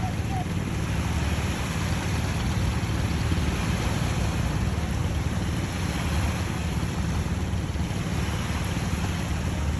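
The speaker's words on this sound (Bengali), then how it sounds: "এই নদীর ঢেউ অনেক রিল্যাক্সিং মানে এই সাউন্ড" Continuous washing of river waves mixed with wind noise, a steady broadband rush with no pauses, fairly close.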